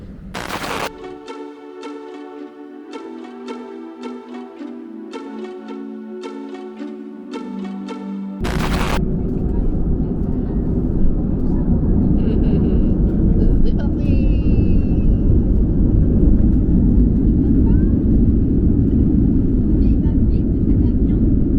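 Passenger jet cabin during takeoff: a steady, loud, broadband engine roar and rushing air that swells and stays constant, preceded by tonal cabin sounds, with no talking.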